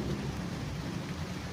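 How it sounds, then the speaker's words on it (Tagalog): A steady, dense hiss of heavy rain falling, constant and enveloping, with a low rumble underneath. "Ayan po, ulan."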